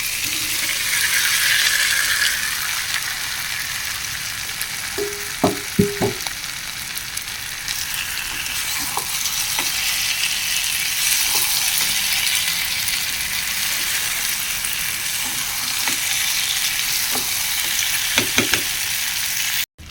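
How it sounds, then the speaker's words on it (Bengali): Pre-fried pointed gourd and potato pieces sizzle loudly and steadily in goat fat, with occasional clicks from stirring scattered through the continuous frying hiss. "এখন আমি এর মধ্যে ভেজে রাখা পটল ও আলুগুলো দিয়ে দেবো"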